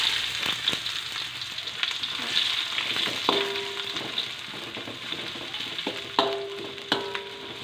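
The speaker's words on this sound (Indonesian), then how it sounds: "Langkah selanjutnya adalah kita menggoreng bawang." Onions sizzle and fry steadily in a hot pan while preparing chicken rogan josh, a continuous crackling hiss with occasional louder pops and stirring scrapes, no talking.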